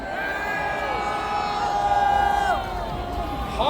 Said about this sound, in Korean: 여러분 우렁찬 함성을 걸어주시기 바랍니다